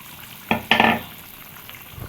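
Potatoes dropped into a simmering duck egg curry in a pot, giving two quick splashing, sizzling bursts close together, followed by a soft bubbling simmer.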